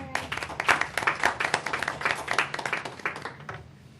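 Board of education meeting audience applauding after a motion carries, a fairly dense patter of clapping from a modest crowd that holds steady for about three seconds before thinning out and fading at the end.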